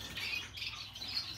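Zebra finches, kept as pet birds, give a busy stream of faint high chirps and squawks that run steadily throughout, with no pauses and no talking.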